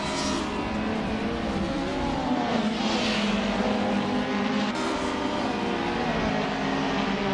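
Race cars circling a track, a 1984 Toyota Corolla among them, give a steady, unbroken engine drone with overlapping motor noise at constant loudness throughout.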